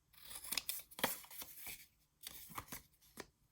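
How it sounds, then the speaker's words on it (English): Scissors snipping a small corner off paper while crafting a gift card wallet: a handful of crisp, close cuts in quick irregular bursts, quiet and unaccompanied by talk. "I'm just going to go ahead and cut that little corner off again."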